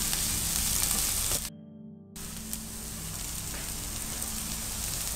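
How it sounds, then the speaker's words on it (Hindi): Onions and green chillies shallow-fry in hot oil with a steady, dense sizzle that cuts out briefly and then returns just as strong, close and continuous with no voices. "प्याज को भी आपने हल्का सा फ्राई करना है और मिर्च को भी हल्का सा फ्राई करना है।"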